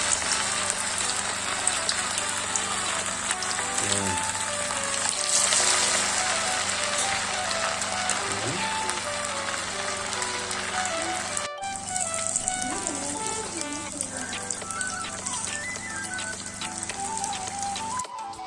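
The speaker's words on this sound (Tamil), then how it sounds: "இப்போ எண்ணெயில் ஒன்று ஒன்றா போட்டு எடுத்துடலாம்." Marinated fish pieces frying in hot oil, a steady crackling sizzle with dense popping, close and moderately loud, running continuously with small clinks of handling.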